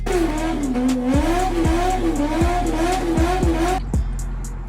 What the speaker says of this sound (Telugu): ఎగేస్తే మనోడు ఆగకుండా బర్నౌట్ కొట్టాడు